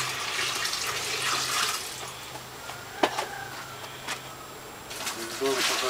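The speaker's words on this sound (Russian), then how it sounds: "Вот так мы поливаем огурцы и помидоры." Water poured onto cucumber plants in a vegetable garden, a soft splashing and trickling stream running over soil and leaves, with intermittent spatters and a brief knock, while voices chat in the background.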